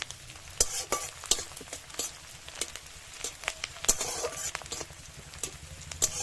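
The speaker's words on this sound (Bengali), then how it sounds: "পেঁয়াজটা একটু ভালো করে ভেজে নেব।" Onions sizzle in a pan for a Bengali prawn malai curry, with sharp, irregular scraping clicks from a spatula stirring them over a steady frying hiss at close range.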